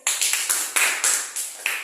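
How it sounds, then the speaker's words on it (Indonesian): Several people clap in a classroom for a student group, a sparse, uneven run of close, sharp hand claps that stays loud throughout. "tepuk tangan untuk kelompoknya"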